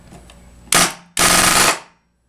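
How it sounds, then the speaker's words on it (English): An older, well-used Tippmann 98 Custom Pro paintball gun with a worn sear pin fires full-auto: two loud, close bursts of rapid shots, the second longer than the first, with no talking. "she rapid fires like a machine gun"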